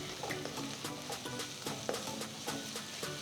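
Green chillies and chopped spring onions frying for garlic egg fried rice give a close, even sizzle broken by regular light taps and scrapes of stirring.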